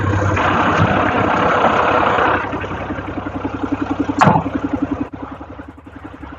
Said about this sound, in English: So you've got to make sure you have your engine running.